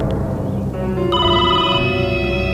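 A mobile phone rings with a bright electronic ringtone that starts partway through, looping steadily over a constant low background hum, with no speech.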